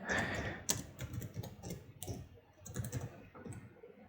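Fingers tap at a computer keyboard in quick, uneven bursts of clicks, fairly close but quiet, with no talk.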